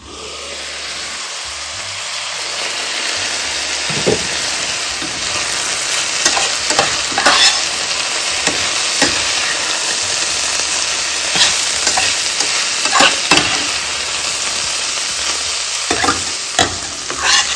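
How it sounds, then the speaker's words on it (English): Papaya and Indian broad beans stir-fried in a pan, a steady close sizzle and hiss running throughout with repeated scraping and clacking strokes of a spatula against the pan, no voices. "The papaya is already sauteed now."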